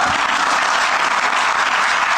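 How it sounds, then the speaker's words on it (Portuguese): An audience breaks into applause, a dense, steady wash of many hands clapping at once, loud and continuous with no talking over it. "As pessoas aplaudem"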